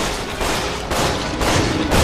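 Gunfire in the video game Resident Evil 6: a dense, loud run of shots with sharp bursts landing about every half second, heard with no talk.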